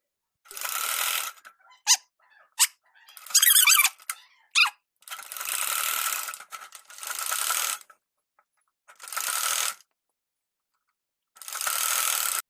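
A sewing machine stitching a blouse collar seam runs in about seven short, close, rattling bursts of rapid needle clatter separated by silent pauses, with no voices.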